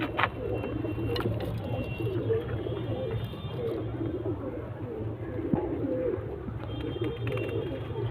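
Many pigeons cooing together in a loft at a fancier's house in Khidirpur, a steady low murmur of coos with some wing flutters and shuffling, moderately close and continuous.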